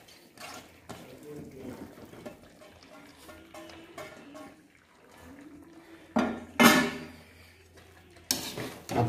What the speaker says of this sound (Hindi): अब हम इसमें जो है हमने जो आलू काटे थे उस उन आलू को डालेंगे।